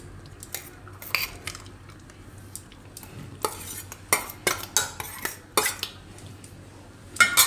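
Carrots and cabbage being mixed into a rava batter with a utensil, giving a run of sharp scraping clinks against the bowl. The clinks are sparse at first and then come quickly, close by and with no talking.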